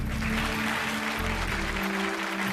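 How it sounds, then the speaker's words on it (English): Studio audience applause on a talk show, a dense continuous wash of clapping that stays loud and even throughout, with no speech over it. "That gets a huge applause"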